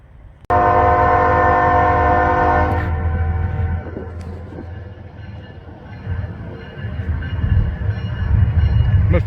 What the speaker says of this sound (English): Must be a coal train.